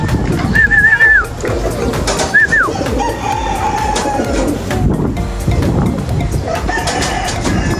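Racing pigeons arriving at a loft from a race released at Agdangan, Quezon call nearby, with brief warbling calls early on against a busy, noisy background of fluttering and rustling.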